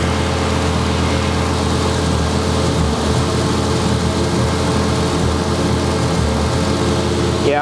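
A Volvo engine idles steadily with its camshaft solenoid actuated, a continuous close mechanical hum with a low rumble and faint ticking that holds even throughout, with no talking.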